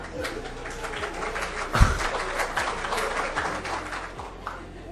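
Scattered, hesitant clapping rises from a lecture audience during a philosophy seminar: sparse, uneven claps over a murmuring room, with one louder thump partway through.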